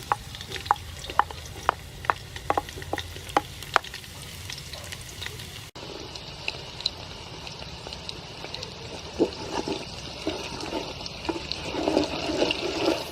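Chopped garlic sizzles in hot soybean oil for a beef stew, with several sharp clacks of a pan or utensil early on, then a steady, close frying hiss and crackle that builds toward the end.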